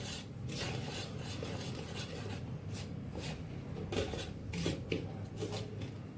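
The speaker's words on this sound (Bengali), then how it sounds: "আমি এইভাবে তেল আর চিনি একসাথে মিশিয়ে নিচ্ছি।" Oil, sugar and flour being mixed in a bowl for stovetop biscuits, giving soft, repeated rasping and scraping strokes of a utensil against the bowl, fairly quiet and close, with no talking.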